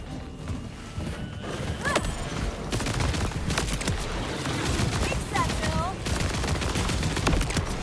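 Rapid bursts of video game gunfire crackle in quick succession, mixed with other game effects and whinnying horses, while a voice talks over it.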